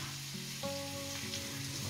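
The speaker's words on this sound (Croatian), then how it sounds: "Za to vrijeme dok se luk dinsta" Chopped onion stewing in a pan for a Bosnian chicken dish, a soft continuous sizzle close by, steady and even with faint clattering tones.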